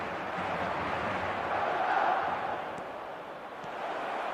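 A stadium crowd in the eFootball soccer video game roars in a broad, sustained wash of cheering, swelling slightly in the middle and staying steady throughout without clear speech.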